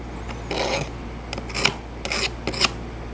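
Someone sharpens a bent double-bevel steel archery broadhead with quick rasping strokes, about six of them in an uneven rhythm, close and fairly quiet, with no talk.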